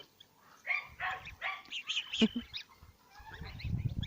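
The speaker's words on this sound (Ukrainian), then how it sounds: "Ото сусідські собаки тут лазять." A neighbour's dog barks a few times in the distance amid honking geese being herded, with low rustling and shuffling nearby.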